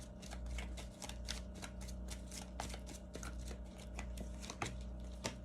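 A deck of oracle cards being shuffled by hand: quiet, steady riffling and crisp card flicks in close, repeated bursts, with a faint low hum underneath and no talking.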